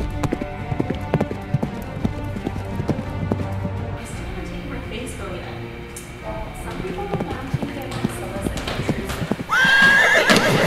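Horses neighing and whinnying with hooves clip-clopping at a ranch-like setting, loud whinnies rising near the end, with people talking over the hoofbeats.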